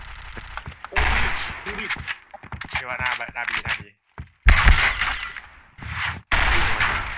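Gunfire from the video game Point Blank, rapid bursts and single shots cracking loudly in clusters, with excited players shouting over the shooting throughout.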